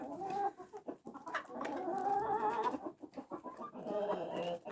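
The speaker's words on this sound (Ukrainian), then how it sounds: "Куриця це квочка наша" A broody barred hen clucks and murmurs in low, drawn-out calls close by, with short pauses between bursts and a quiet background.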